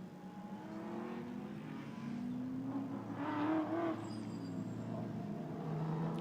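GT4 race cars from Ford, Alpine, BMW, McLaren and Aston Martin racing at Hockenheim, with a steady engine roar that swells and fades as the field passes, under background ambience.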